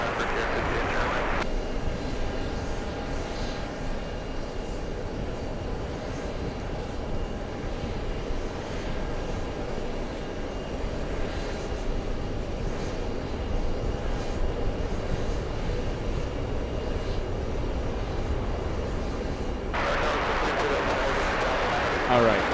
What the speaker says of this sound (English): Heavy 777 touching down, caution with turbulence, runway 22 left, clear to land